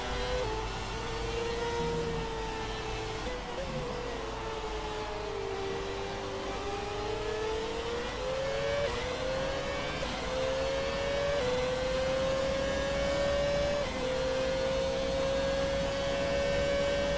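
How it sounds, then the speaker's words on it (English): A high-pitched Formula 1 car engine in the video game F1 2017 whines steadily for a long stretch near 20,000 RPM, its pitch climbing and shifting between gear changes, with a constant hum underneath. "Listen to how beautiful this engine sounds."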